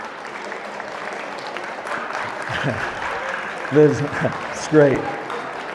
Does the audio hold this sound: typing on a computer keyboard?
no